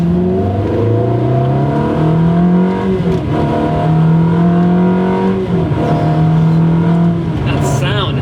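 A Ferrari 360 fitted with a Tubi exhaust revs loudly up close, its engine note climbing and falling through several rising sweeps with brief dips between pulls.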